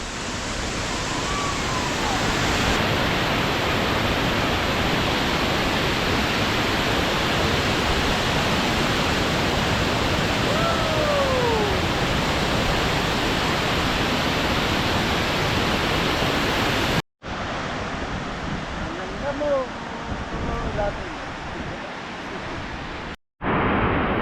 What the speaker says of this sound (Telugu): మొత్తానికి తారాబు పిట్టల దొర వాటర్ ఫాల్స్ అయితే వచ్చాము